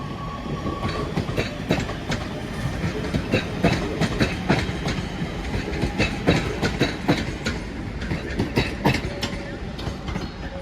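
A Northern passenger service, a class 323 electric unit, runs through Crewe station with a steady, close rumble and rhythmic clickety-clack of wheels over rail joints that continues throughout.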